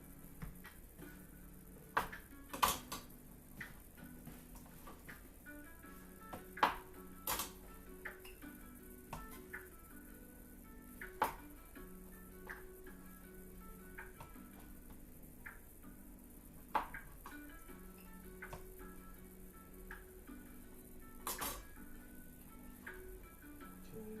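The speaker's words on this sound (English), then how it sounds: "Let's start cutting these mushrooms up." A knife taps against a cutting board as mushrooms are sliced, sparse irregular clicks at close range over a quiet hum, with no talking.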